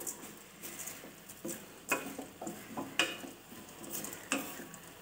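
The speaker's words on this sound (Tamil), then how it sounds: "நல்லா கிளறி விட்டுக்குங்க" A spoon scrapes and stirs through flattened rice upma in a pan, irregular knocks and scrapes over a faint sizzle, close up, with no talking.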